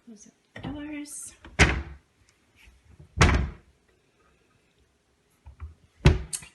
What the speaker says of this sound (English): Close up the doors.